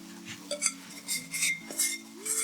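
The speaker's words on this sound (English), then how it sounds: "going to first use a spoon to combine the wet and the dry ingredients" A spoon clinks and scrapes against a bowl while stirring wet and dry bagel dough ingredients together. The light metallic taps come in an irregular rhythm over a faint steady hum.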